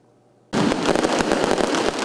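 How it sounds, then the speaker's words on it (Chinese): A dense string of firecrackers bursts out suddenly after a quiet start, crackling loud and continuous at an election victory celebration for a re-elected legislator in Taichung. "鞭炮声响彻云霄，"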